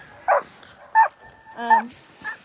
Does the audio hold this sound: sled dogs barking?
yes